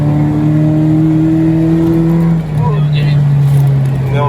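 A car overtakes on a road, its engine drone sliding down in pitch as it goes by, heard from inside a Suzuki Jimny fitted with a 1.8-litre engine under a constant loud cabin hum.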